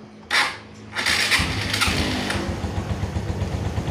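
A Suzuki Shogun FI motorcycle cranks and starts, a brief whir, a second try, then the engine catches and settles into a steady, close idle.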